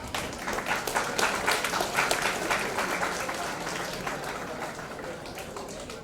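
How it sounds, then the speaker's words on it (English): An audience at a state-level chartered accountancy students' conference in Kumbakonam claps for a session chair being escorted to the dais, a crisp burst of many hands that slowly thins and fades. "Give an applause everyone."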